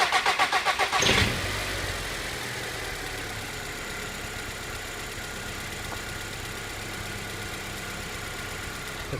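An Audi TFSI engine with a running fault cranks in a rapid pulsing rhythm for about a second, then catches and settles into a steady, loud idle that holds to the end.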